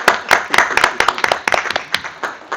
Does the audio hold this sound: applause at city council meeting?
yes